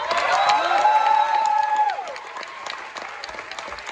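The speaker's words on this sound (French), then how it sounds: "Merci d'applaudir Louis Buisset" A theater audience at a Paris musical curtain call claps for performer Louis Buisset, steady applause under a tonal musical or vocal line that fades after two seconds, with scattered cheers.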